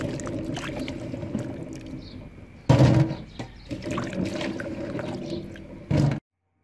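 Longan fruit gets washed in water, with splashing, sloshing and pouring sounds close by, continuous then breaking into louder bursts of water movement before stopping abruptly.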